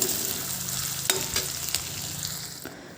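Chopped ginger and onion fry in a hot pan, a soft sizzle with several distinct clinks and scrapes of a spatula stirring, close and fairly quiet, with no voices.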